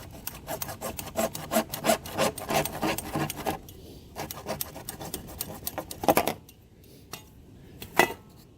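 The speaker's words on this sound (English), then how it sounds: "Go ahead and cut that pipe off." Saw rasping through a plastic drainage pipe beside a wall in a crawl space, with steady back-and-forth strokes that pause and resume, ending in a few isolated scrapes and knocks.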